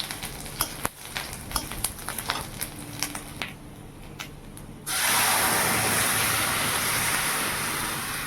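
Bay leaf, cumin and dried chilli dropped into hot oil for a Bengali tempering, with light clinks and taps first, then a sudden loud, continuous close sizzle.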